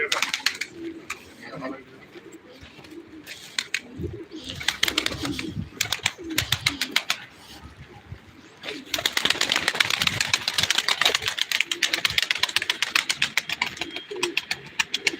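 Pigeons coo repeatedly, including one with an injured wing, with occasional wing flaps and people talking nearby throughout.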